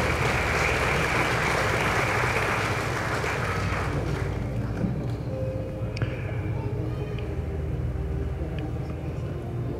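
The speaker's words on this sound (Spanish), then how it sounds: "Aplausos, por favor." An audience applauds at an engineers' induction ceremony in a hall, with dense clapping that is loud at first and then fades away as a voice speaks near the end.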